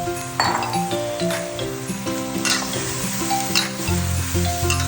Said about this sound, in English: Continue stir-frying until the Thai basil is slightly wilted.